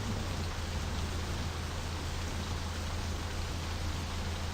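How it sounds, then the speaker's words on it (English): Rain falls inside a van in the game My Summer Car, a dense, steady hiss of drops that holds at an even level from start to finish with no speech. "it does rain in the van."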